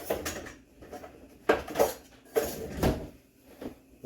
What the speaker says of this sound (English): Get the spatula out.